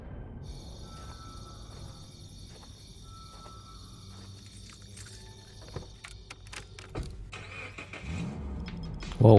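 A car engine hums steadily at low pitch through a snowy outdoor scene, with an insect-like whine overhead and a few knocks and a louder thump near the end.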